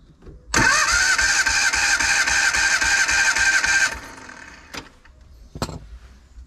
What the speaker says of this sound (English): I'm just going to bridge the solenoid to get it cranking over, and at the same time we'll open up the throttle butterfly